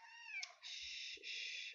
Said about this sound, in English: I want to show you my kitty.